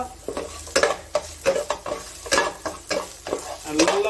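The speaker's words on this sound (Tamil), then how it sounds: "இந்த வெண்டைக்காவை இது கூட நல்லா ஃப்ரை பண்ண போகிறோம்." Okra and prawns stir-fry in ghee in a pan, with quick rhythmic spatula scrapes and tosses about twice a second over a bed of sizzling, close and alone without speech.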